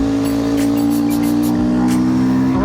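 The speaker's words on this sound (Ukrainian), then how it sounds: "Гарний вихлоп." A car's exhaust drones loud and steady from inside the vehicle as it accelerates to nearly 100 km/h on a cold day at minus 7, with a strong low engine hum and faint rising revs.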